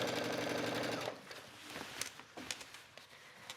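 A sewing machine stitching a skirt waistband runs in a fast, loud mechanical whir for about a second, then stops, leaving faint fabric handling and soft clicks.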